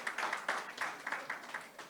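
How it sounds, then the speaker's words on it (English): Light, distant applause from a conference audience at a funding talk, a steady patter of clapping in a large room. "Can you please give her a round of applause?"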